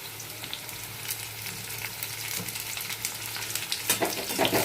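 Potato with chopped onion fries in a pan, giving a quiet continuous sizzle with crackling pops and a few stirring scrapes that grow slightly busier near the end.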